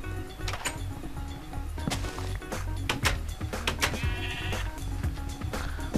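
Sheep bleating in the video game Minecraft, several short wavering bleats repeating over a busy game soundscape, fairly close and steady in loudness.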